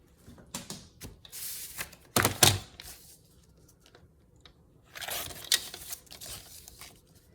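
Scissors cut the top and bottom off a paper gatefold tag for a junk journal: two close bursts of crisp snipping and rustling paper, separated by quiet pauses.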